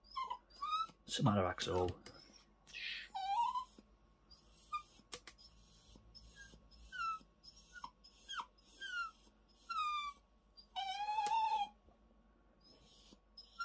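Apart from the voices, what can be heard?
dog whimpering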